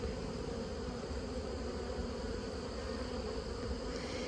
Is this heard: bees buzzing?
yes